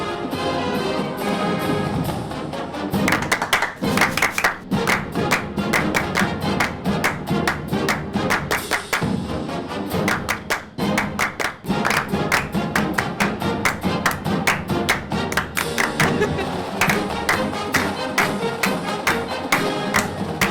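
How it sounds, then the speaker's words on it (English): A small group claps along in a loose, steady rhythm of sharp, close hand slaps, starting after a brief lead-in and continuing almost without pause for about twenty seconds. "Just clapping now."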